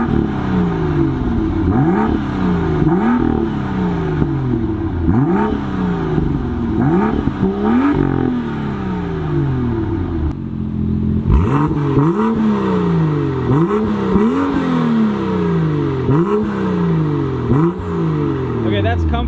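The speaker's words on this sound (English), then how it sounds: "Dude, it sounds like a race car." A BMW M2 F87 with a Wagner Tuning downpipe revs repeatedly, each loud, close blip rising and falling in a steady rhythm, with a brief lull before another series of sharper revs.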